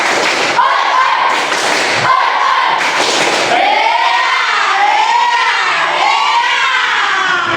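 A class of schoolchildren doing a rhythmic clapping chant, sharp bursts of hand claps and shouted voices at first, then loud sing-song group chanting carrying on close by.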